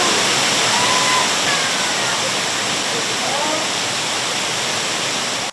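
A cold waterfall pours from five metres high into a pool, kicking up white foam, a loud, dense, continuous roar that holds steady and close throughout.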